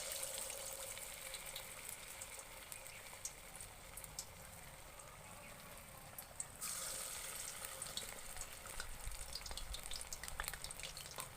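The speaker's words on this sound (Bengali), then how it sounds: "বাকি সজনের ফুলগুলোকেও একই রকম করে পকোড়া ভেজে নেব।" Drumstick flower pakoras fry in oil with a faint, continuous bubbling hiss that holds steady and shifts slightly partway through. No voices are heard.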